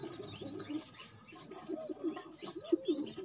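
Pigeons coo in a low, throaty burble, with a few chirps and a soft flutter of wings, close by and fairly quiet. They are a kept pair of fast-flying pigeons, a cock and a hen.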